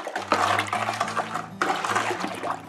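Sugar stirred into raspberry wine in a homebrew vessel until it dissolves, a gritty scraping and clinking of the spoon in repeated strokes with faint sloshing liquid, close and moderately loud.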